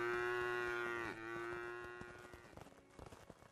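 A cow in the video game Craftopia lets out a long, loud moo that bends downward, then trails into a clatter of game sounds.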